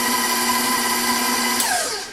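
Electric mixer whirring steadily as it whips cake batter light and fluffy, a loud continuous motor drone that winds down and drops in pitch near the end.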